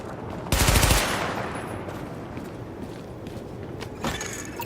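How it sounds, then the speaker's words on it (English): Gunfire during a weapon test in the video game The Division, with a sharp rapid burst that fades into a long reverberant tail, followed by a second, fainter shot. "Open fire at the highlighted targets."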